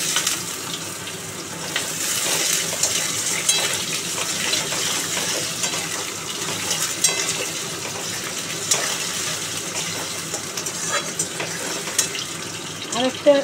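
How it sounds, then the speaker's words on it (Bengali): Thin potato slices fry in oil seasoned with cumin and bay leaf, a broad, even hiss running throughout, close and moderately loud, with faint kitchen clatter and no clear talk. "জিরে তেজপাতা ফোড়ন দিয়ে তারপরে তেলে পাতলা পাতলা করে কাটা আলু দিয়ে দিলাম"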